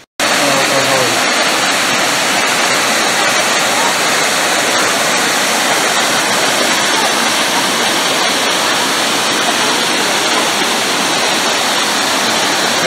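A forest waterfall at Paraty roars close and loud, a steady broadband rush of falling water that fills the whole stretch without a break.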